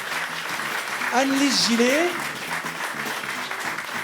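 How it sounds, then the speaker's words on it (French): Audience at a French conference on a connected world applauds the speakers as they are introduced, steady clapping running under a voice announcing names over a microphone. "je vous demande d'applaudir"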